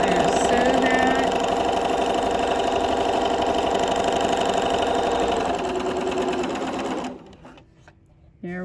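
Sewing machine stitching a rolled hem: a close, steady mechanical whir with a fast rhythmic stitching chatter that runs continuously for several seconds, then slows and stops.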